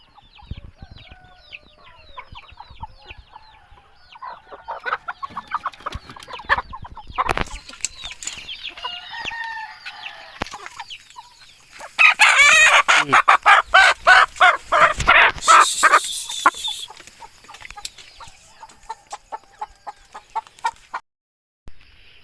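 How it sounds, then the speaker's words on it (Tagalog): Native chickens cluck and crow nearby, a rooster's call rising over a busy flock, with a burst of loud rapid clucking midway. "native na manok"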